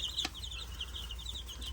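Chickens give soft, quick clucks and chirps at a modest distance, with a brief rustle of movement near the start over a low background rumble.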